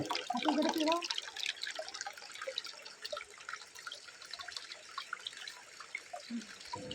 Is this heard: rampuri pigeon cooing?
no